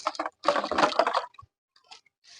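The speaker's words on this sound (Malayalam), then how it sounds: "എന്നിട്ട് ആ കരിയിൽ നമുക്കൊന്ന് നനച്ചു കൊടുക്കാം" Water poured onto a layer of dry leaves in a ginger grow bag gives a close, wet crackling splash, one main burst followed by a few short, softer drips and rustles.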